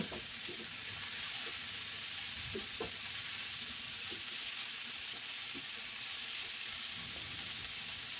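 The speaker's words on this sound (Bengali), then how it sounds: "সব কিছু নেড়ে একসাথে হালকা একটু ভেজে নিচ্ছি" Vegetables and mushrooms for egg chow mein are stir-fried in a pan, a steady bright sizzle with soft intermittent scraping and tapping of a spatula.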